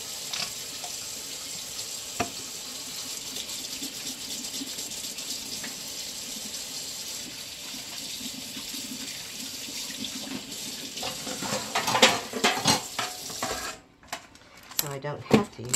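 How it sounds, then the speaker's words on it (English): A kitchen tap runs steadily while hands are washed under it during chicken and dumplings prep. Near the end the water is joined by a few brief clatters and knocks. "let me wash my hands"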